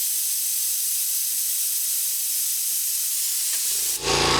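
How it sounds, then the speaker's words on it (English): RYO EZ-Fill cigarette-making machine: a steady airy hiss runs alone and close, then a lower compressor hum kicks in abruptly just before the end. "I'm going to let this go for a minute until the compressor comes on, so that you get a chance to hear the noise level of the compressor."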